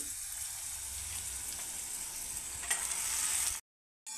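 Green amaranth leaves tossed into a hot kadhai sizzle and hiss steadily, a bright frying crackle swelling near the end before cutting out abruptly.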